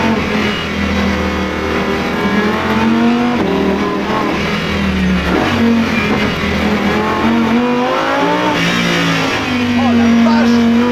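The road-legal ABT XGT race car's engine revving hard as it accelerates, a loud rising and falling howl through the gears heard from inside the cabin, with excited voices speaking over it.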